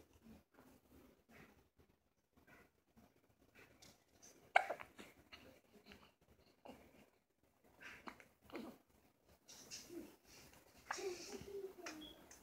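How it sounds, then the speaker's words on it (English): A 10-day-old baby hiccups in soft, scattered little bursts against a very quiet room, faint and close, with light breathing and rustling between them. "You got the hiccups"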